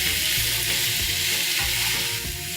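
Onions and peppers sizzle loudly and evenly in a hot pan, a dense close frying hiss that holds unbroken throughout with no talk.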